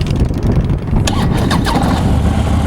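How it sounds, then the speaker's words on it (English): Harley-Davidson Ultra Limited motorcycle with 7,757 miles and factory exhaust cranking and firing up, a loud continuous low rumble through which the starter catches around the middle and the engine settles into a steady run. "Fire it off and let you give it a listen."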